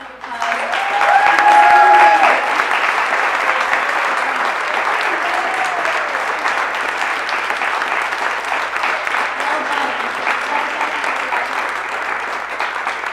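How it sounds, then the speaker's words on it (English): An audience applauds five speakers at a public speaking event, a dense, sustained clapping that swells early and holds steadily loud throughout. "please give them a tremendous round of applause."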